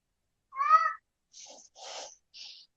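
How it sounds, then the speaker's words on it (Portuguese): A cat meows once clearly, then gives three shorter, softer calls in quick succession against silence. "É um gato miando aqui."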